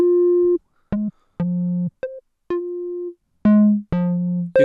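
Modular synthesizer patch with a Contour 1 ADSR envelope shaping the notes: a series of short, clean electronic tones at varying pitches, some cut off abruptly and later ones trailing into a brief decay, alone and fairly loud.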